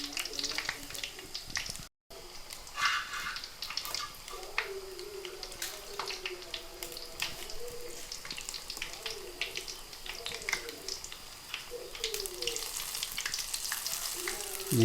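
Breadfruit pakoda pieces fry in hot oil, a constant close crackling sizzle with scattered pops, and a faint voice now and then underneath.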